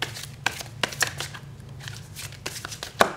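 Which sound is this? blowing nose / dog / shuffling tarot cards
shuffling tarot cards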